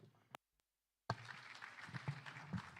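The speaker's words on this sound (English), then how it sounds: "Let's clap." Audience applause at a climate justice symposium, bursting in after a brief click and a moment of silence, then a sustained patter of many hands clapping until the end.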